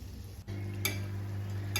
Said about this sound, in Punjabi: ਆਪਾਂ ਇਸ ਨੂੰ ਕੜਛੀ ਜਾਂ ਪਲਟੇ ਦੀ ਸਹਾਇਤਾ ਨਾਲ ਆਪਾਂ ਹਿਲਾ ਲਾਂਗੇ